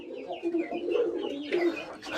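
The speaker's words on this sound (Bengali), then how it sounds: "এটা হচ্ছে ডাবওয়ালা কবুতর।" A dab-wala breed pigeon coos up close, a few soft, throaty, rolling coos in quick succession against a quiet background.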